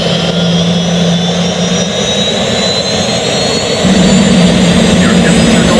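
Jet engine number one spooling up during start, a loud steady roar with a high whine. The sound swells and deepens partway through as the engine gains power.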